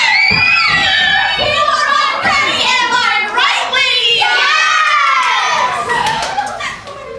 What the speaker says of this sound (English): Look at those girls screaming over rotten Penny.